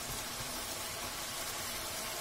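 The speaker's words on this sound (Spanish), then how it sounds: "Y vamos a dejar que siga friendo" Bacon and garlic fry in a pan, giving a soft, steady sizzle and hiss with no talking.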